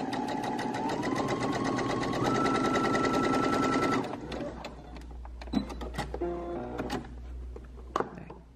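A home sewing machine with a standard presser foot gathers fabric for the front panel of an autumn dress. It whirs loud and continuously for about four seconds, then stops, followed by scattered clicks and light handling sounds.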